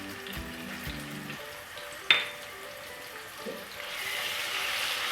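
Sliced onions and garlic-ginger paste frying in oil for goat trotter curry. A soft sizzle with a sharp clatter midway swells into a louder, steady hiss near the end, with no talking.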